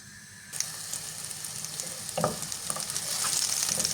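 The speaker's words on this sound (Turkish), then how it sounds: "Yarım çay bardağı kadar sıvı yağ ekledim. Güzelce kızartıyorum." Onions in oil sizzle and crackle loudly as they start frying, the hiss building after a quiet start, with occasional stirring scrapes and pops.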